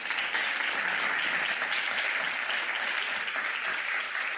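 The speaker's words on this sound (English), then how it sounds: "please give a round of applause to all the speakers." Conference audience applauding the speakers, a dense steady wash of many hands clapping at even loudness throughout, with no voices over it.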